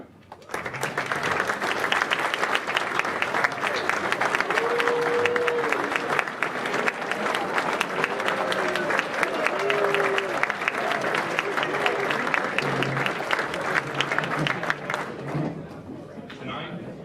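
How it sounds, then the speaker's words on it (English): Sustained applause from a large audience at an Air Force Airman Leadership School graduation, steady and loud for the whole stretch, with a few brief cheers rising over the clapping. "please rise and be recognized with a well-deserved round of applause"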